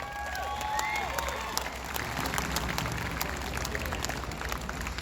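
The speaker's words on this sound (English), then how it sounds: "Give yourself a round of applause." Sustained crowd applause with scattered cheers fills an outdoor political rally, a dense, even wash of clapping that holds steady from start to finish.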